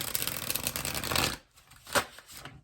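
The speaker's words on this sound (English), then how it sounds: "Does anyone do that when they shuffle cards, and when it shuffles so gorgeously" A deck of playing cards is riffle-shuffled up close, giving a dense rapid flutter for over a second, followed by a soft bridge and a single crisp snap.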